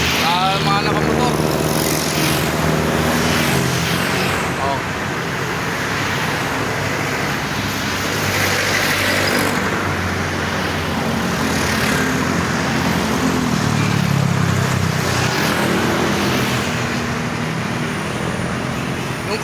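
Road traffic with motorcycles passing on a highway toward Tagaytay and Baclaran, a continuous loud roar of engines and tyres swelling as vehicles go by, with a voice talking over it.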